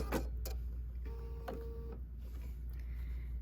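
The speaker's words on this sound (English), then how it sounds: "let's sew off the edge" A sewing machine stitches the edge of a Double Wedding Ring quilt block, with a short whirring run in the middle framed by sharp clicks and taps from handling the fabric.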